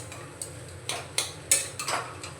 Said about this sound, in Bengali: লবণটাকে ভালো করে মিশিয়ে নেব।